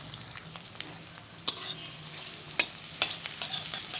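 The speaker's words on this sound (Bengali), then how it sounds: "তেলটা তো ভালো মতন গরম হয়ে গেছে এখন আমি এই কেটে রাখা পেঁয়াজগুলো দিয়ে দেব" Chopped onions sizzle in hot oil in a kadai, with a steady frying hiss broken by several sharp scrapes and clinks as a spatula stirs them.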